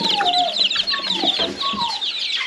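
Chickens in a mobile henhouse cluck and chirp close by in a busy, overlapping chorus of short calls and peeps with a few longer squawks.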